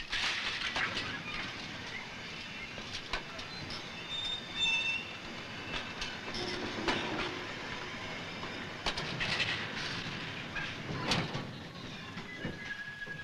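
Railway wagons roll through a marshalling yard, a steady distant rumble of rail traffic broken by sharp wheel squeals and occasional metallic clanks, heard alone without voices throughout.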